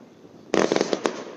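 Fourth of July fireworks in Arlington, Texas burst with a sudden loud bang and then a quick run of crackling pops lasting about half a second, nearby, with a quiet background before and after.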